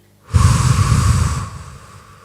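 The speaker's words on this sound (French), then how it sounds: "Prends une grande inspiration par le nez. Expire par la bouche." A single deep breath, drawn in through the nose and then let out slowly through the mouth, close and fairly loud with a soft airy rush that fades gradually.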